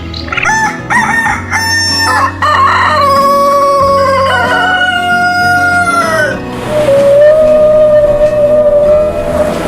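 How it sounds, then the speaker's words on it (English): Several roosters on a farm crow loudly in overlapping, drawn-out calls, one after another, with steady clucking and barnyard noise beneath them and no talking. "A farm of roosters."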